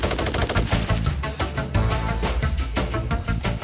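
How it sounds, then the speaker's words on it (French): A heavy machine gun with an adjustable rate of 550 to 900 rounds per minute fires on a military shooting range, loud close bursts of rapid shots, one after another, with no talking. "C'est une arme qui a une cadence qui peut être réglée de 550 à 900 tirs par minute"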